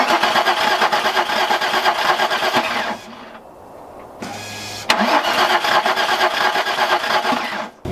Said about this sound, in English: Unfortunately, couldn't get Steve's car to start.